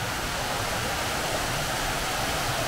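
A waterfall in the Okutama forest pours in a dense, unbroken roar of rushing water, loud, steady and close, with no voices over it.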